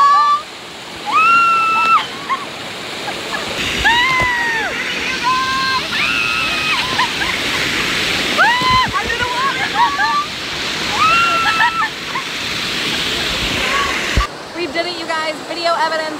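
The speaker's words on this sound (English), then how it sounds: "Under the waterfall!" Waterfall at a Jamaican resort pool pours and splashes in a steady, loud rush, with excited voices talking and shouting over the water throughout.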